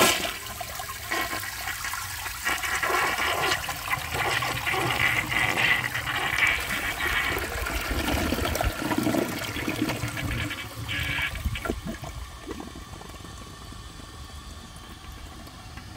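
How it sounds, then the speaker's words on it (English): A 2007 Kohler Highline Ingenium toilet with an overfilled tank flushes in one long, loud rushing surge of water that gurgles down and fades into a quieter refill, close by with no talk. "I'm interested to see how it will flush."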